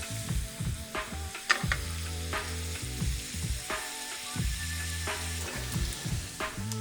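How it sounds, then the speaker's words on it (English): Shrimp sizzle steadily in a hot pan and get flipped partway through, with clattering bursts as they turn, alongside a shrimp and zucchini dinner. The frying is close and continuous, and no one speaks. "once you see your shrimp start to get color on the top side, go ahead and flip those over"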